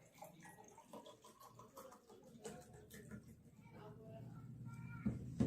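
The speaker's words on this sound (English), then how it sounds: "So in the first glass, you'll fill the water till the top." Water poured into a glass for an egg-and-salt density experiment, a faint, soft trickle that grows gradually louder and fuller toward the end, heard alone in a quiet room.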